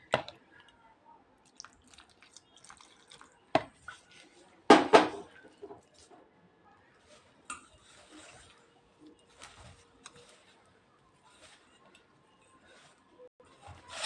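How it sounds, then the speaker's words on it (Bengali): Dough being mixed and kneaded by hand as water is added a little at a time, for a raw potato recipe: faint, sparse wet squishes and small drips, with a few sharper taps of a bowl or utensil, fairly quiet and close. "এখন আমি এখানে অল্প অল্প জল দিয়ে একটা ডো তৈরি করে নেব।"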